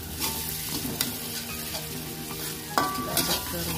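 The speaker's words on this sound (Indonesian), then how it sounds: "setelah itu kita aduk-aduk sampai wanginya benar-benar tercium ya" Egg fried rice (nasi goreng) is stirred in a hot pan, with a continuous sizzle of frying and intermittent scraping and clinking of a spatula against the pan, close up and without talk.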